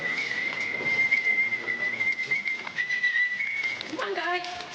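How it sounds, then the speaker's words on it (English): A sustained whistle, used to call trained penguins, holds a steady pitch for several seconds, then slides into short bird-like calls near the end, with faint voices and activity in the background. "What we've trained the birds to do is to come to a call, a whistle."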